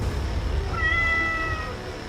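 A black cat in an animated horror story lets out a single drawn-out meow, clear and fairly close, over a low background rumble.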